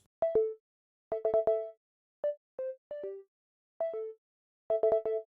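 Short, plucked FM synthesizer notes in a future garage style, with quick decay, played in small bursts of two to four notes separated by brief silences, clean and isolated.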